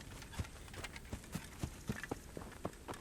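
Horse hooves clip-clop at a steady trotting rhythm in the medieval game Kingdom Come: Deliverance, a quick run of soft repeated thuds over a constant background wash, with no talking.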